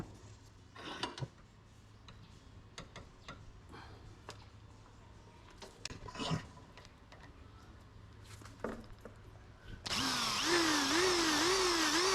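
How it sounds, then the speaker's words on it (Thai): A power drill whirs in short intermittent bursts over quiet clicks, then a loud, steady high-pitched grinding whine kicks in near the end as the lubricated bit bites metal for a CT125 motorcycle spotlight bracket. "ลดความร้อนให้ดอกสว่านซะหน่อยครับ"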